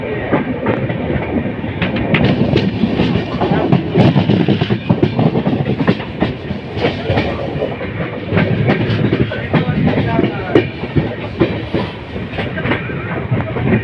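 The North East Express passenger train runs on rails between New Jalpaiguri and New Alipurduar, heard from on board as a loud, continuous rumble with rhythmic clickety-clack of wheels over rail joints throughout.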